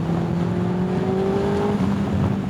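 A Suzuki Hayabusa motorcycle downshifts, its engine note a steady loud drone whose pitch slides downward, heard continuously and up close with no voices.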